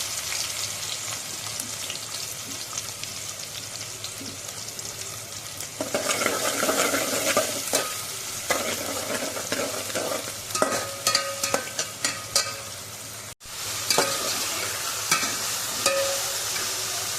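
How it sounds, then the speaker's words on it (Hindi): Onions frying in hot refined oil for Chinese noodles, a steady close sizzle that swells louder partway through as the pieces hit the pan, with scattered crackles, stirring scrapes and a brief dropout near the end. "तो हम रिफाइंड में डाल देते हैं प्याज। पहले प्याज डालेंगे सबसे पहले।"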